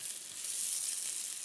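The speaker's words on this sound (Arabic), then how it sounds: "احنا الصلصه زي ما هي بتغلي برضه" Chili tomato sauce simmering in a pan, a steady soft hiss and sizzle of bubbling sauce and oil close by, continuous and even with no voices.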